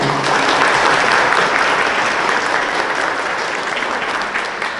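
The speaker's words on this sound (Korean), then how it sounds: "정말 고생하신 우리 선생님들 그리고 봉사자님들을 위해서 큰 박수 부탁드리겠습니다" A large audience applauds at a ceremony for a diary family artwork exhibition, loud dense clapping that holds steady for about five seconds and fades only slightly at the end.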